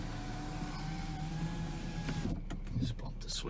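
Electric motor whine of the driver's side power window on a 2007 Volvo XC90 AWD, a steady rising tone running for about two seconds before stopping, followed by clicks and faint talk.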